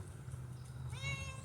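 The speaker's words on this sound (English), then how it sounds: "I have a cat coming over here to visit." A cat meows near the microphone, a single drawn-out, rising cry late in the moment over a steady low hum, with no one talking.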